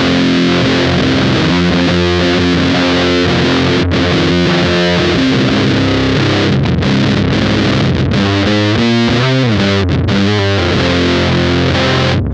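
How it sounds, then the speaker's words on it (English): An electric guitar played through an Electro-Harmonix Big Muff fuzz pedal gives thick, saturated, sustained chords and riffs, loud and close with no talking. "this is the sound that I've dialed up on the Big Muff"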